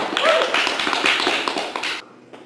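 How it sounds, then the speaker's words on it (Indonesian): Small group clapping for everyone after a public speaking sharing session, a dense patter of hand claps that fades and stops near the end, with no talk over it. "tepuk tangan dulu dong buat semuanya"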